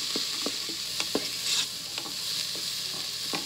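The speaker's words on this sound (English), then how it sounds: "So now we're just gonna give this a nice stir." Soup being stirred in an Instant Pot, a steady hiss with soft spoon scrapes and light knocks repeating every half second or so, close and moderately loud, with no voices.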